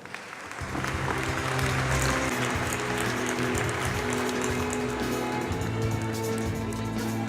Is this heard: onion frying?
no